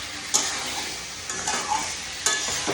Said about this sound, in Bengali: এই যে কষা চলছে